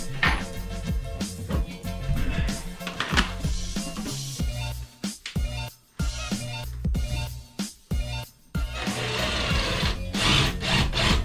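Wood-to-metal screws are driven into a wooden subfloor board in a van conversion, making gritty grinding and rasping bursts broken by short pauses, close and fairly loud.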